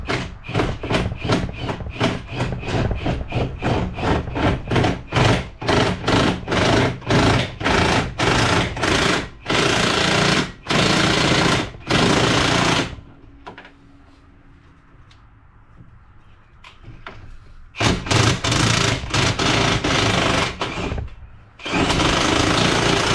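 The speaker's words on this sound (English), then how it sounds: "Now time to hit it with the impact and hopefully it'll pop right out." An impact wrench hammers a golf cart's primary drive clutch off with a clutch puller, firing loud rapid rattling bursts that blur into a continuous drone, pausing in a quiet stretch before a second long burst and a final short one.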